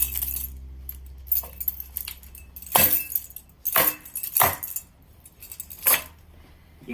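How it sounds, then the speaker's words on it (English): Metal keys slapped against a wooden board to distress it for a gas pipe ladder shelf, giving about five sharp jangling, clinking impacts at irregular intervals, close and fairly loud, with quiet gaps between them. "I like using the keys because it gives a real random"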